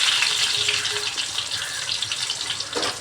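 Onion dropped into hot oil in a pan sizzles loudly and steadily, a close, dense hiss lasting throughout with a brief scrape near the end.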